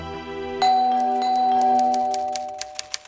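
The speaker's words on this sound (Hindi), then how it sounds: "ऐसी डबल घंटी और कौन बजाता है?" A doorbell chimes at a house door, a sustained ringing tone that holds and slowly decays, followed by a few short sharp knocks or clicks near the end, heard alone in a quiet room.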